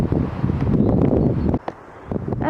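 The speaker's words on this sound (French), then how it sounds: "Il y a un petit peu de vent" Wind blows outdoors beside a small river by an old mill, buffeting the microphone in loud, rough gusts that drop off abruptly partway through before rising again.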